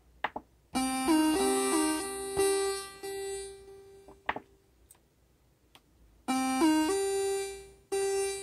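A buzzy, raspy synth played through the vocal processor of a Roland Verselab MV-1 plays short sustained notes with pauses between phrases, loud and close with no voices.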